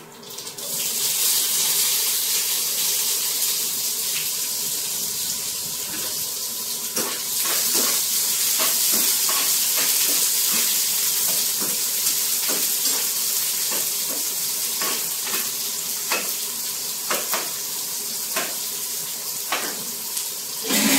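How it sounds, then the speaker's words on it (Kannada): Onions fry in a pan until they turn brown, giving a continuous loud, hissing sizzle with scattered crackles and pops throughout, close by and without any voices. "ಈರುಳ್ಳಿ ಸ್ವಲ್ಪ ಬ್ರೌನ್ ಕಲರ್ ಬರೋವರೆಗೂ ಫ್ರೈ ಮಾಡ್ಕೋಬೇಕು"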